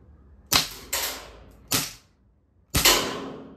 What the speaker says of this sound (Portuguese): Você vê a diferença do barulho, ó? Você vê pelo barulho da arma.